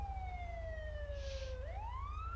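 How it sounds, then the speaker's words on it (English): Federal Signal Uni Control Touchmaster Delta police siren in a game setting, a slow descending wail that dips and then begins climbing again, steady and clear over a low engine hum. "we installed a new siren. It's the Federal Signal Uni Control Touchmaster Delta."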